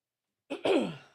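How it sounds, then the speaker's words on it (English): A short, close throat clearing: a brief rasp, a tiny pause, then a longer gravelly rumble that fades out, with no talk. "for clearing my throat in y'all's ear"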